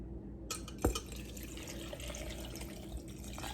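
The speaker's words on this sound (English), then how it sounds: "There's our beautiful, beautiful brine. And we'll pour it into the jar." Pickling brine for avocados is poured into a glass jar, a soft steady liquid stream beginning after a brief silence, with a small clink early on, fairly quiet and close.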